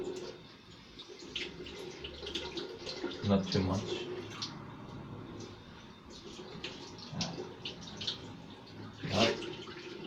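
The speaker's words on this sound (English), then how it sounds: "We open the hot water, even though there is no hot water in this apartment studio." Water running from a hot tap in a small apartment studio, a steady splashing stream with intermittent louder splashes and knocks, while a person talks briefly over it.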